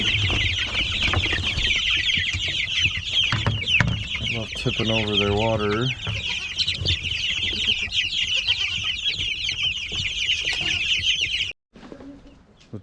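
Chickens and baby chicks cluck and cheep continuously on a homestead farm, a dense chorus of close, busy peeping with occasional louder clucks, while a person briefly talks over them.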